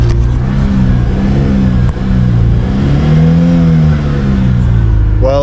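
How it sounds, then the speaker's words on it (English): An old farm truck engine, dead in a field and struggling to stay running, revs loudly and continuously up close, its pitch rising and falling in broad swells with a brief dip partway through. "Well, it'll rev. There it is. It's staying running right now."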